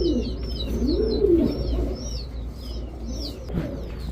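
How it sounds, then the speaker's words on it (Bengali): Lal Pattipigeons, a Giribaz breed kept as a male and female pair, coo in repeated low, throaty phrases close by, with faint higher chirps from other birds overhead and no talking. "নর মাদি দোনোটাই কিন্তু বেগুনি পায়ের কবুতর।"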